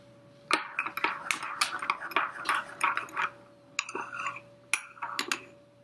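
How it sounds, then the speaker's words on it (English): A spoon clinks repeatedly against a cup while stirring organic sugar into freshly made coffee, a quick run of close, bright metallic taps and scrapes in two bursts with short pauses between. "Mix that around"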